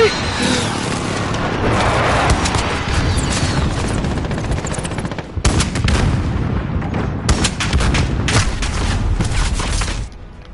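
Dense, loud bursts of gunfire in Modern Warfare, with rapid shots and automatic volleys crowding together and then breaking into sharper separate cracks, all heard close up.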